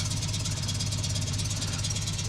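A Fiat 126p engine running just after starting, a quiet, steady low rumble with a faint rattle and no voices.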